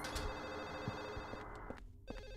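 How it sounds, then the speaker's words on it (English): A telephone rings repeatedly in Silent Hill 4, its bright electronic trill sounding steadily throughout at moderate level over low ambient game noise, with a sudden dip near the end before the ringing resumes. "That's a phone!"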